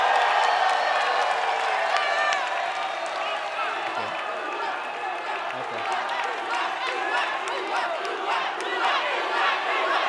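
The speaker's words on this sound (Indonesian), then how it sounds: "saya persilahkan tepuk tangan untuk para paslon" Supporters at a Jakarta gubernatorial election debate applaud and cheer for the candidates, a loud crowd roar with clapping and shouting that stays dense for the whole stretch.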